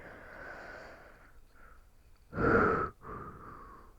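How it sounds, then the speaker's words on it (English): Slow, heavy breaths build into one long, loud exhale in the middle, a drawn-out yawn heard up close with no talking. "Sorry for the yawns."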